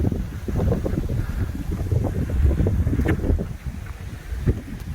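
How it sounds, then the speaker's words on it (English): Wind buffets the microphone on the roof terrace of an abandoned Caribbean resort, a steady low rumbling roar with gusty swells throughout and no talking. "Sorry about the wind."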